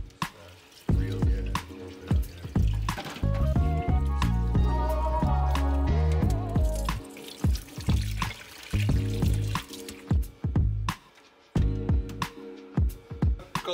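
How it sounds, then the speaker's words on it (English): Water runs and splashes at a sink as a film developing tank is rinsed after developing color film, a steady trickle and gush with intermittent knocks and drips, close and fairly loud. "let's take this to the sink and give it a rinse"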